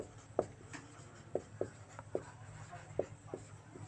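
Writing on a board during a Hindi physics class on electric potential: a series of short, sharp taps and scratches of the marker or chalk, fairly close and quiet, against faint room noise.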